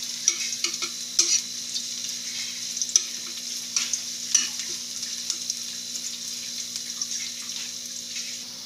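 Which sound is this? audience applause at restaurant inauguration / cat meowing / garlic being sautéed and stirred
garlic being sautéed and stirred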